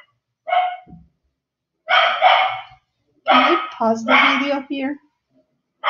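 Dogs barking indoors in a few short bouts close by, interleaved with someone talking.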